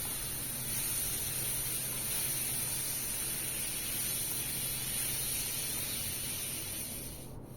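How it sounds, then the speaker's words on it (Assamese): Chopped tomatoes cook in a pan for an egg and potato dish, giving a soft, continuous sizzling hiss that holds steady throughout and fades slightly at the end. "অলপ দেৰি সিজিবলৈ দিম।"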